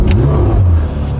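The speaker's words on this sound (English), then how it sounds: "That familiar flat six Porsche sound." A Porsche 991 GT3 flat-six engine turns over and catches, a loud close low rumble that swells briefly then settles into a steady idle.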